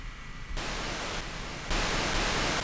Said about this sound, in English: Sounds like we're changing channels on the digital dial for an FM station